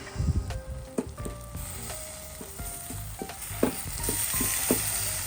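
Marinated chicken sizzling on a grill while being turned, a steady close hiss and crackle with scattered sharp clicks and pops, no talking.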